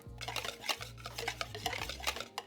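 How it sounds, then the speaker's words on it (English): Whisk strokes scraping and clinking in a bowl as cottage cheese is mixed with cake batter flavoring and vanilla, a quick run of close, steady metallic taps and swishes with no talking. "add in our flavorings like the cake batter, which is a weird yellow orange color, vanilla, and mix it together"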